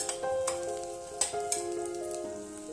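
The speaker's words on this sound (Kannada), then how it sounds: "ಈರುಳ್ಳಿ ಚೆನ್ನಾಗಿ ಫ್ರೈ ಆಗಬೇಕು" Onions frying on a medium flame for chicken biryani, a steady close sizzle with a few sharp pops and scraping stirs, no voices.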